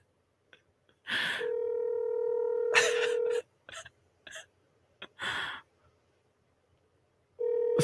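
A flip phone placing a call, ringing out with long steady tones separated by silences, a few short clicks and noises in the gaps, loud and close.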